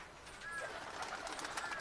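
A Giribaz pigeon coos softly in a low, throaty murmur, faint and nearby against a quiet background hum.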